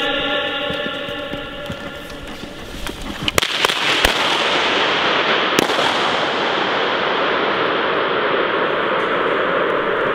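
Bangs on an outdoor film set during a staged shootout, a few sharp cracks around the middle, heard over constant loud hiss and noise from start to end.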